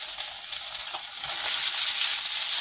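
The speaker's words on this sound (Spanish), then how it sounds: "En el mismo aceite vamos a echar las verduras, la cebolla, el pimiento rojo, el pimiento verde y el laurel" Onion, red and green peppers and a bay leaf fry in oil in a pan, giving a loud, steady close-up sizzle with a faint stir partway through, with no talk.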